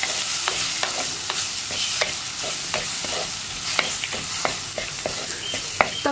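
A spoon stirs a green gram and moringa leaf curry with chilli powder in a pan, giving regular, close scraping strokes over a continuous gentle sizzle, with no voices.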